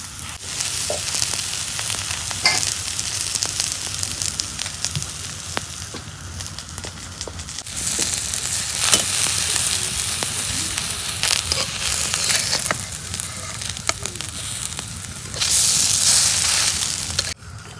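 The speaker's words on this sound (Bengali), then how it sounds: "এই যে দেখেন বড়া ভাজা হইতেছে।" Cabbage and flour fritters frying in hot oil, a loud continuous sizzle and crackle with occasional stirring, no talking.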